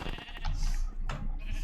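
Sheep bleating in the Minecraft video game, several short game bleats over a steady, busy background of game sound, fairly close with no talking.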